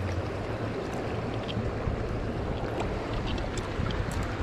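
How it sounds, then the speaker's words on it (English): Wyomissing Creek flowing outdoors, a continuous rushing wash of moving water that stays steady and fairly loud from start to finish, with no voices. "with the beautiful Wyomissing Creek in the background"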